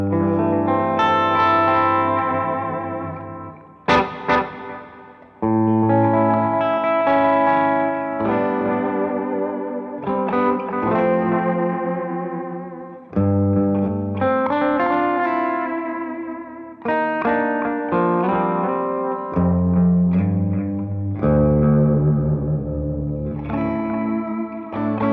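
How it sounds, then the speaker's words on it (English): Electric guitar played through the bright analog echo of a Donner Triple Threat multi-effects pedal, sustained chords and picked notes trailing audible repeats over a continuous 25-second passage, loud and clear, with no talking. "The echo is where things get interesting. It's brighter than your typical analog delay."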